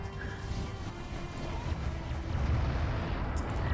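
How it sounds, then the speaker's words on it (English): An artillery barrage in a competitive video game match with cruisers rumbles as dense, continuous low booms and crashes that swell slightly toward the end. "Huge barrage there though by by Phoenixyo."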